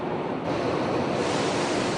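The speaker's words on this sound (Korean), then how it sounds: "다시 바닷물을 채우는 주수 작업이 시작되었다" Seawater pours back into a bridge caisson casting yard during refilling, a dense steady rushing roar of water that stays loud and even throughout.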